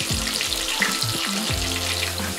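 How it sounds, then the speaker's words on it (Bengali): Potatoes fry in hot oil in a pan, a dense steady sizzle filling the whole moment, with a few low knocks and scrapes of the pan underneath. "আলুগুলো উল্টে পাল্টে 3-4 মিনিট ভেজে নিতে হবে।"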